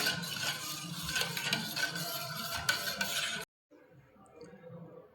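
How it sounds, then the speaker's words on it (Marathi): A spoon stirring a raw mango panha mixture with jaggery, cumin, cardamom and black pepper powder, soft repeated scraping and clinks for about three seconds before an abrupt cut to quiet room tone. "हे आता छान मिक्स करून घेऊ"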